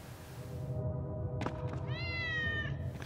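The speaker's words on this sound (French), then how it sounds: "Excusez-moi où j'ai entendu un chat" A cat meows in the video game Tales of Xillia 2, one clear drawn-out mew rising then falling, preceded by a soft thunk, over a low steady game ambience.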